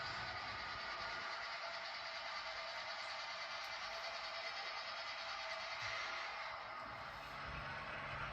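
A model train rolls steadily past a switch on a layout, a continuous close rumble and whirring hum with faint rail clatter, unchanging in level, with no talking.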